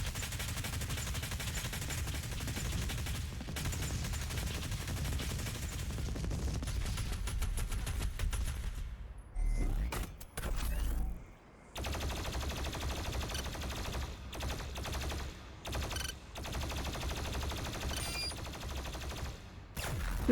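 Rapid, dense gunfire from weapons in the Doom video game, including a shotgun, loud and near, with bursts nearly continuous across the span and a few brief pauses midway.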